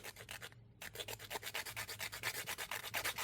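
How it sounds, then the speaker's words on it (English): Quick rhythmic rasping of a nail file on cured UV resin, trimming the bottom edge of a small ghost-shaped piece, close and steady strokes after a brief pause. "Fix it with the nail file"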